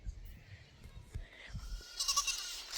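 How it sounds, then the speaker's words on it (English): Goats bleating outdoors on a homestead as they follow someone around, faint calls scattered over low rumbling handling noise and some quiet movement close by. "These goats followed me."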